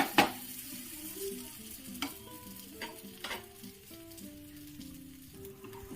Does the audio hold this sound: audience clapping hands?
no